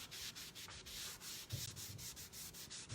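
Steady, soft rubbing strokes against a wooden kitchen cabinet door as a transfer is pressed on, a quiet rhythmic swishing back and forth with no talking.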